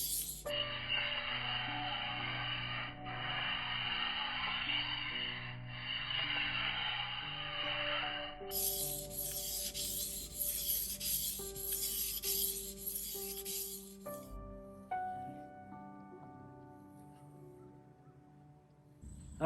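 A knife blade slides across a Cerax whetstone in soft, repeated strokes, giving a faint rubbing rasp. The strokes stop about halfway through, and light clinks and handling sounds follow with no talking.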